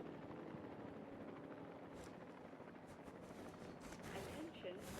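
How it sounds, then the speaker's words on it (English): A helicopter returning to base in the park-building game Jurassic World Evolution 3, a steady low rotor drone filling the background under ambient game sounds, with faint voices partly heard. "Attention personnel. Please stand by for the returning helicopter."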